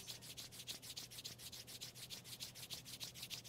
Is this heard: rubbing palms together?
yes